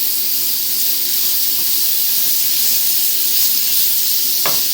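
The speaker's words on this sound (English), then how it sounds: "And instantly it'll start to sizzle" Steady, loud, close sizzling of spaghetti bolognese ingredients hitting a hot pan, a continuous bright hiss with a brief scrape near the end and no talk.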